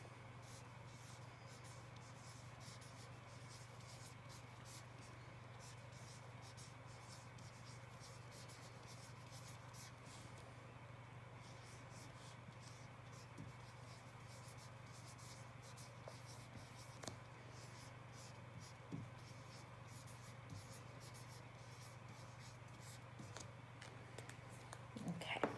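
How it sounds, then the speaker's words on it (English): Handwriting out examples produces faint, quiet scratching strokes scattered over a low steady background hum, with no talking. "So let me go ahead and write my examples for you."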